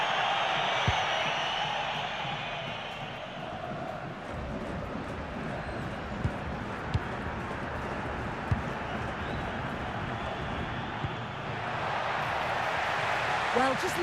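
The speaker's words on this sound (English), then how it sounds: "Well, just listen to this crowd. They want a bit more." A stadium crowd in a football video game roars steadily for the whole stretch. The dense, continuous cheering swells near the end, with a commentator's voice over it.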